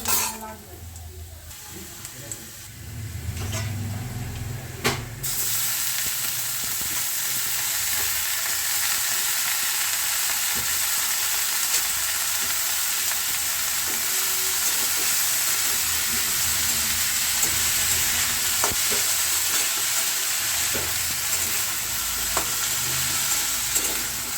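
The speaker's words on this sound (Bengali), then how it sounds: "পনির শাক ভাজার জন্য রসুন আর পেঁয়াজ দিয়ে নিলাম তেল দিয়ে ভালো করে একটু ভেজে নেবো" Garlic and onion fry in oil for a paneer and greens dish, producing a loud, steady, close hiss and sizzle after a brief quieter start, with occasional stirring scrapes and some speech.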